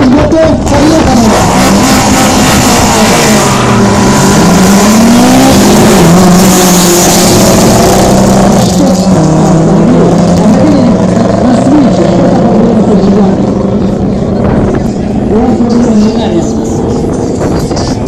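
Drag race cars launching from the start line roar loudly and close, engines rising and falling in pitch as they rev and accelerate over a constant heavy din, with people talking over the noise.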